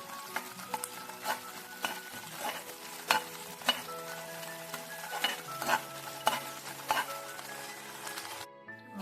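Ingredients frying in ghee in a pan and stirred until golden, with a soft sizzle under repeated clinks and scrapes of a spoon against metal, close and steady, no talk.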